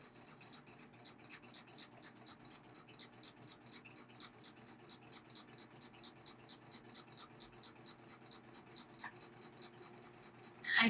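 Sewing machine stitching elastic button loops, a fast steady rattling patter of needle strokes running continuously for several seconds, close up with no talking.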